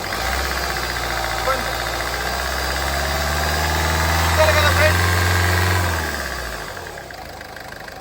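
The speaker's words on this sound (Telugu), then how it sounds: "సార్ ఒకసారి ఎక్సలేటర్ ఇవ్వండి." A 2014 Ford Fiesta Classic Titanium 1.4 engine idles, is revved up with the accelerator to a sustained higher, louder hum, then drops back to idle, close by; someone speaks briefly near the end.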